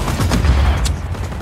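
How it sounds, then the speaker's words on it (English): Gunfire in the video game Just Cause 4: a dense, rolling fusillade of shots and booms with no pause across the short stretch, loud and close. "That is not where I even wanted to shoot."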